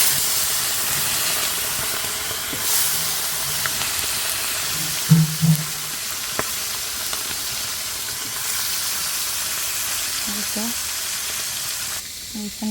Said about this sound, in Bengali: এখন হলো আমি তেলের ভিতরে মাছটা দিয়ে দেবো আর আজকে হলো মাছের মাথাগুলো নিয়ে নিচ্ছি আমি